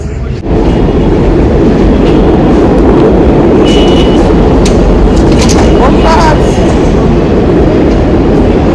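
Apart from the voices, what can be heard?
train passing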